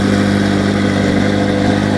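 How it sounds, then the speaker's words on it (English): A C8 Corvette Z06 with cat deletes and stock exhaust idles with a deep, rumbling exhaust drone, steady and loud, with a throaty low hum and no other sounds. "He has cat deletes with the stock exhaust"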